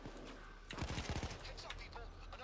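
Rapid automatic gunfire bursts from the Payday 2 video game, a quick rattling volley in the middle of the moment over a steady game background, with a voice speaking alongside.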